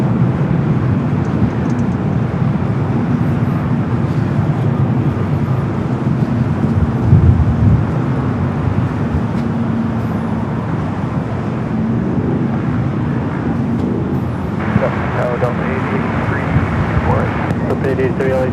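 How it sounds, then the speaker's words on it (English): A FedEx Boeing 767-300 freighter from Memphis arrives on the north side at LAX. A steady, broad jet roar lasts the whole stretch, buffeted by wind noise on the microphone. "We do have a FedEx 767-300 freighter coming from Memphis, like 352. Next arrival here on the north side."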